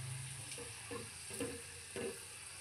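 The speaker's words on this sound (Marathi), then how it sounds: "हे सगळे मी मोदक तळून घेते" Modak dumplings deep-frying in hot oil make a steady, close sizzling hiss throughout, with a few soft stirring knocks scattered through it.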